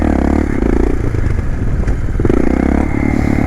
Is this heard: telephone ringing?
no